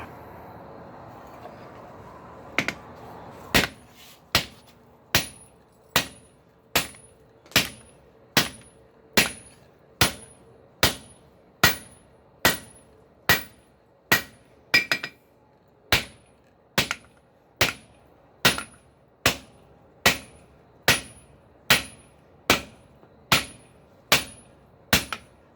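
Hammer striking a steel rail track clip to straighten it, about two dozen sharp ringing metallic blows at a steady, roughly once-per-second rhythm, close and loud, with quiet background before the first strike.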